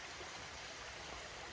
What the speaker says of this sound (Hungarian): Íme a csobogás.